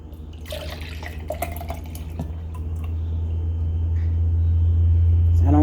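Golden milk pours into a Magic Bullet blender cup, with close trickling and splashing whose tone deepens and grows louder as the cup fills.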